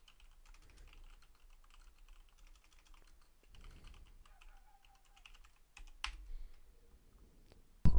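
Keys clatter on a computer keyboard in bursts of steady typing, soft and close, pausing now and then, with a sharper burst of clicks near the end.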